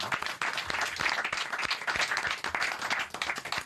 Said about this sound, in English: Well, that is a round of applause.